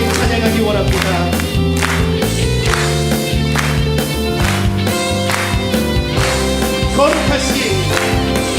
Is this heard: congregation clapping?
yes